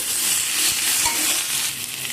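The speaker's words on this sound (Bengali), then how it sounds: "এখন এর মধ্যে দিয়ে দেবো আমি একটা টমেটো। সব কিছু ভালো করে নাড়াচাড়া করে নেব।" Tomato being stirred into a frying masala with potatoes in a pan for a Bengali fish curry, a steady close sizzle with soft scraping stir strokes throughout, no talking.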